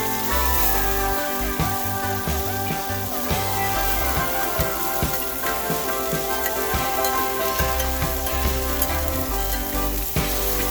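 Jerk chicken seasoning sizzling in a hot pot, a loud continuous crackling fry with scraping stir strokes throughout, close up and without voices.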